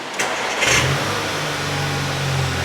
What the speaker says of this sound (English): car's running right now